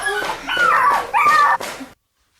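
A dog whimpers and yips in a rapid run of high, whiny cries, with a few sharper bark-like bursts, fairly loud and close, then cuts to silence.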